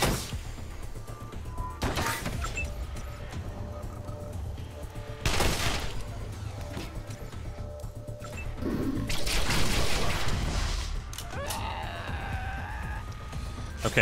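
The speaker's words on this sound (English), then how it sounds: "I want him to just keep shooting at the alien," Gunfire in the turn-based RPG Wasteland 2, with a party shooting at an alien: several loud bursts of shots and impacts stand out over a steady background of game ambience and music, with no talking.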